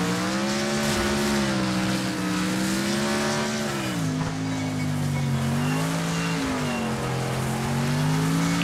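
A car's engine in the Wreckfest racing game drones loud and steady, its pitch rising and dipping through gear changes as it accelerates, with a faint tyre squeal under the continuous roar.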